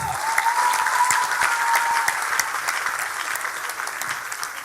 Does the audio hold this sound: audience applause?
yes